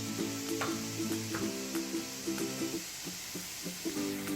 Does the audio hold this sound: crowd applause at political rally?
no